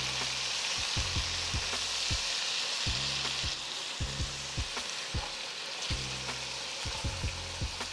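Bell peppers and vegetables sizzle in beef fat and butter in a pan, a steady bright hiss broken by repeated low clunks of stirring, close and uninterrupted with no voices.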